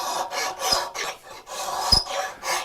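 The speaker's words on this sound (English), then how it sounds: "a rip cut carcass saw" A rip-cut carcass saw draws back and forth through wood in about seven rhythmic rasping strokes, each a loud, close, dry scraping burst with short pauses between. No talk.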